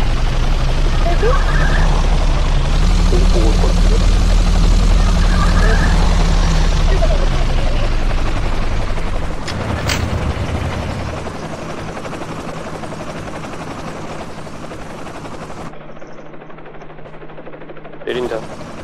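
A helicopter in the video game Hopeless Land drones loudly and steadily with deep rotor rumble, fading somewhat toward the end, while players talk over it.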